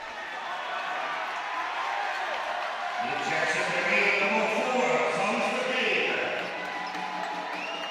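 Crowd at an Irish basketball cup semi-final, DBS Éanna v Garvey's Tralee Warriors, cheering and applauding in a steady broad roar that swells in the middle, with court noise mixed in and no talk.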